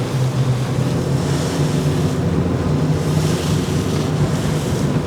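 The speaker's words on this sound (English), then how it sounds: "you can feel her surfing down these waves" Wind and sea waves rushing around a Campelli Tempest 1000 RIB speeding at about 23 knots in rough weather, a steady loud roar of wind buffeting with surging water and low engine drone, no talk.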